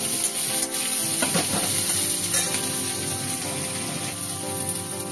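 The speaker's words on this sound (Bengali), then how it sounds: "এটাও পেঁয়াজটা দিয়ে আমাকে 1 মিনিট মতো ভাজতে হবে।" Chopped onions fry in a pan, a loud, dense sizzle running throughout with a few scraping and rattling stirs early on, heard close up and with no voices.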